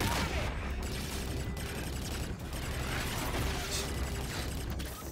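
Rapid weapon fire rattles in Call of Duty: Infinite Warfare, dense mechanical bursts of shots with metallic clatter running almost continuously, punctuated by a few sharper cracks, loud and close.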